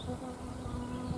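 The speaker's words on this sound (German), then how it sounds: "dieses blöde Wespenteil. Ja, geh weg hier." A wasp buzzes close by outdoors, a steady insect drone with a low hum running through the whole brief moment, fairly quiet and alone without talk.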